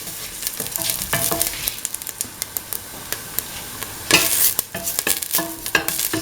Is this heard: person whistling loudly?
no